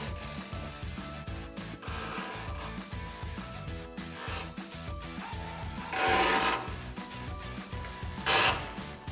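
A ratchet tensioner cranks tight the strap on a 270-degree vehicle awning, giving repeated close clicking ratchet strokes in an even rhythm with louder rasping bursts near the end, and no voices.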